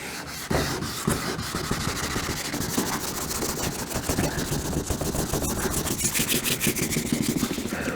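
Aquamarine paint is rubbed off by hand to bring out red oxide underneath on a fake patina finish. The scrubbing is close and continuous, with a fast, rough back-and-forth rhythm and no talk.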